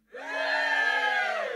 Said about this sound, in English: now you lot have got to cheer and try and outdo them